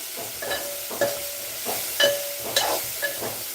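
Amaranth leaves frying in a pan with green chillies, a soft sizzle broken by rhythmic scraping as the leaves are stirred, close and alone.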